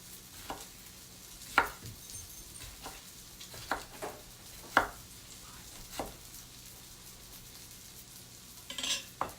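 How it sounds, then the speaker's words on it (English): Tomatoes are sliced on a cutting board in a home kitchen, giving a series of separate knife taps at an uneven pace over a faint background sizzle. "Just slice up your tomatoes."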